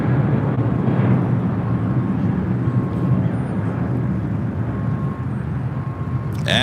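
Asiana Airbus A380 taxiing to the gate at Tom Bradley terminal, LAX: a steady, loud low jet-engine rumble and whine holds throughout, with a brief higher burst near the end.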